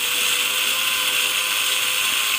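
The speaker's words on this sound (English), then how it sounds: "So what I'm going to do is just drill this." A power drill whirs steadily on a part of a Pioneer SX-450 stereo receiver, a continuous bright mechanical hum held at constant loudness close up.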